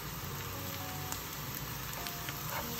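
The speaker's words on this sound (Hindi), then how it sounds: "ये रसन जो है थोड़ी सी फ्राई हो गई है।" Garlic sizzling steadily in a hot pan while cooking a sweet pumpkin sabzi, a soft continuous crackle of oil with faint pops and no voices.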